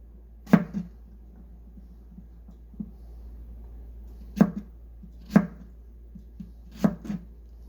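A knife chops garlic on a cutting board in a home kitchen while pasta is being made, giving sparse, sharp close knocks in small clusters with quiet gaps between them.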